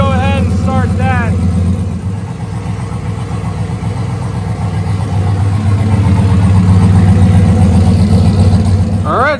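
A no-prep race car engine runs loud and steady throughout, a deep, continuous mechanical drone with voices audible over it.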